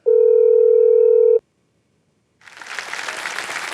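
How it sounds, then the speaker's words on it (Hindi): A steady telephone dial tone sounds loud and close for over a second, cuts off into silence, then a burst of studio audience applause rises at a quiz-show taping. "फोन लगाया जाए।"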